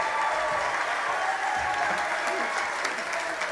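An audience at a live jazz ensemble concert in Montenegro applauds in a dense, steady wash of clapping that lasts throughout, with a voice faintly audible beneath it.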